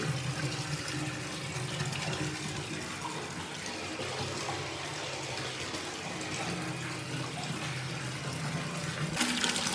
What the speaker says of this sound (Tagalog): Babad muna natin yung ating paa rito.